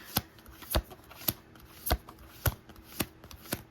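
Tarot cards being shuffled by hand: seven crisp riffling snaps in a steady rhythm, each about half a second apart, close and clear with no talking.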